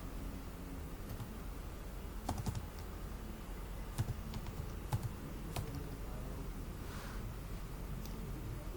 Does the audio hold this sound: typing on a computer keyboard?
yes